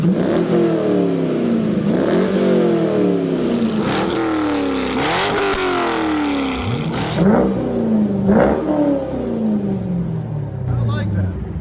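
A Chevrolet Corvette C5 with an aftermarket axle-back exhaust revs repeatedly, deep exhaust rising and falling in pitch in a steady series of loud, close bursts.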